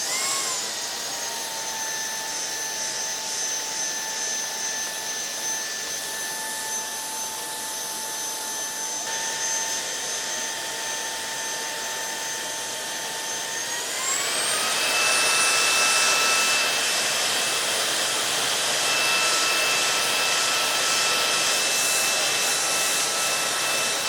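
A low-speed vacuum cleans dust from inside an Alienware 17 R4 gaming laptop, a steady whining drone with a shrill tone that rises in pitch and grows louder midway, continuing alone throughout.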